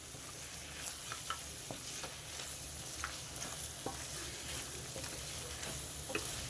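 Masala paste frying with mutton pieces in a pan for a gravy curry: a soft, steady sizzle with scattered light ticks and pops, faint and continuous, no voices.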